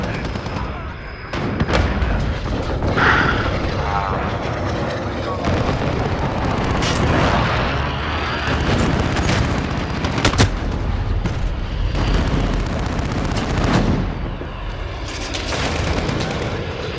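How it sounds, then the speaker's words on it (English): Enemy precision airstrike explosions in Call of Duty gameplay, a dense, loud barrage of booms and crackling blasts running the whole time with sustained rumble, close and overwhelming, with game voice chatter mixed in. "Enemy precision airstrike."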